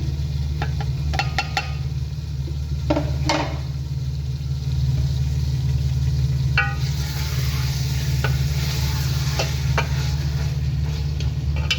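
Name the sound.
stirring beef karela curry in a frying pan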